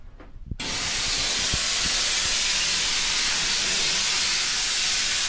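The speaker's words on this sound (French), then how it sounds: "je vais commencer par envoyer la vapeur" A Vapodil garment steamer blasts steam onto a curtain rod, starting with a few clicks and then bursting into a loud, continuous close hiss that holds steady for several seconds without any talking.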